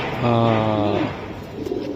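A silver pigeon gives a single drawn-out coo, close and clear, followed by soft rustling and faint background sounds.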